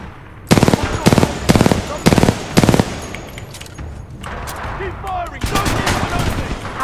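A gun in the video game Titanfall 2 fires five loud, close bursts of rapid shots in an even rhythm, followed by a quieter stretch of scattered shots and background game noise.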